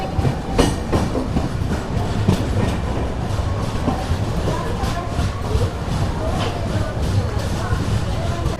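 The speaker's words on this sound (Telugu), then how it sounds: "మన ట్రైన్ వచ్చేసి ఎర్నాకుళం నార్త్ టౌన్కి అయితే రీచ్ అయింది" Kerala SF Express 12625 rolls into Ernakulam station with a steady, continuous rumble and clickety-clack of wheels, loud and close, with a busy crowd murmuring on the platform.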